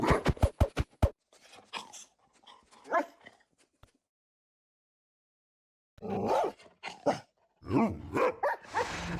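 A Minecraft dog lets out a quick burst of loud yips and barks, then whimpers and softer barks, falls silent for a couple of seconds, and resumes with a cluster of whines and barks.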